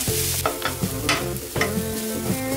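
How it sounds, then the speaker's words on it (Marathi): Onion sautéing in a pan for Marathi-style red masala chicken sukka, a steady sizzle broken by repeated spatula stirs and scrapes, close and fairly loud with no voices. "कांदा आपल्याला चांगला परतून घ्यायचा आहे"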